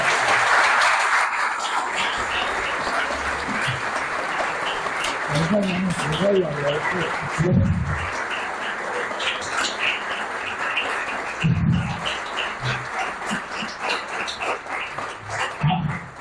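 An audience at a book presentation on the founding of Villa Dolores claps in a sustained, fairly loud wash of applause, with voices breaking in and talking over it in places.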